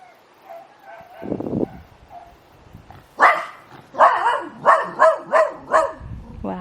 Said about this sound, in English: He's barking at dogs across the river.